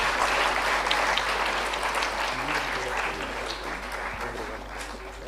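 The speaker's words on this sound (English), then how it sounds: "Let's have a round of applause for the artist." An audience at a sustainability education conference session claps for a performing artist, a dense, steady patter of applause that slowly thins toward the end, with a low hum underneath and faint voices in the room.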